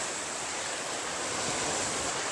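Sea waves on the rocky coast near Mubarak Village, Pakistan, below a cliff, a continuous soft wash of surf with a faint, even hiss and no pauses.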